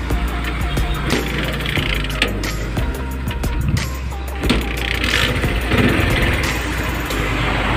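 Bajaj CT 100 motorcycle engine running after a kickstarter repair, a steady close idle with rapid rhythmic firing pulses throughout, loud and continuous with faint background noise.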